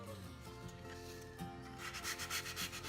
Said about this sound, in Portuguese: Feito isso, vai lixar